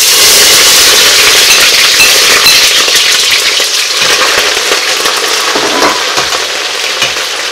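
Onions frying in hot palm oil for Nigerian efo riro vegetable soup give a loud, steady broadband sizzle that crackles throughout with no pauses.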